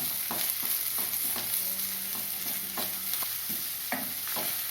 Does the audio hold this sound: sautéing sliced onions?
yes